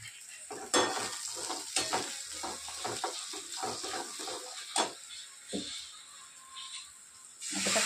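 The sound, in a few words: asafoetida (hing) added to hot oil for chutney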